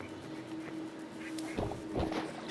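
A duck quacks in a video game, with two raspy quacks close together over a faint, steady background hum.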